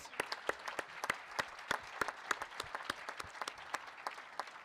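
Commencement audience applauding at a business school graduation, sparse and distinct individual claps with sharp peaks, quiet and spread out like a small or distant crowd.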